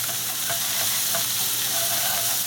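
Shrimp sizzling on a tawa griddle over medium gas, a dense steady hiss with a few soft taps and scrapes as pieces are turned over, close and loud, no voices.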